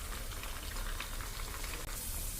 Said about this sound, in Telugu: బ్రౌన్ కలర్ వచ్చే వరకు ఇలా ఫ్రై చేసుకొని